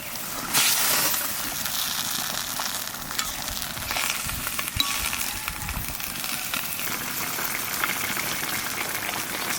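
Pieces of chital fish added to a curry with eggplant frying in oil, giving a steady, close, crackling sizzle with stirring clatter throughout.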